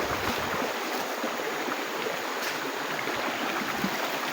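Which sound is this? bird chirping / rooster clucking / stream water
stream water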